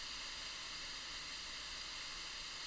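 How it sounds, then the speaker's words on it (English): Pink noise test signal played through a Cardo Packtalk Slim helmet communicator, a steady broadband hiss held evenly and alone throughout. "Now we first have the Cardo Packtalk Slim pink noise test."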